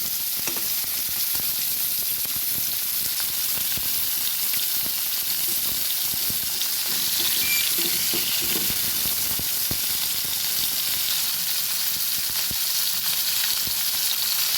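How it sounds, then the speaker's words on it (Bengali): Snakehead fish pieces fry in oil in a wok with a dense, even sizzle and crackle, heard close and steady throughout, with occasional soft knocks and no voices. "এক পিস কিছুটা ভাজা হয়ে গেলে তারপরে তুলতে দেবো"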